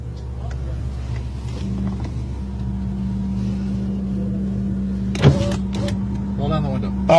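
A car's electric power window motor hums steadily for several seconds as the window rolls down during a roadside police stop, a low mechanical drone under idling engine noise, with a brief clunk near the end and voices nearby.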